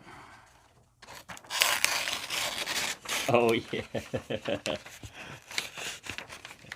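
Close, rasping scrapes and a burst of rhythmic crinkly rips as a large Bowie knife cuts and tears paper, with a brief spoken remark partway through.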